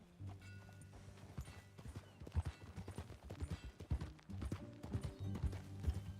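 Steady clip-clop of a video game horse's hooves at a walking pace, moderately loud and continuous over a soft background, with no talking.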